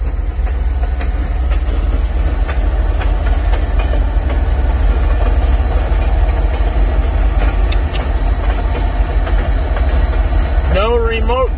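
A long train rolling past, a loud continuous rumble with rhythmic wheel clatter throughout, and a short whine near the end; people talk faintly in the background.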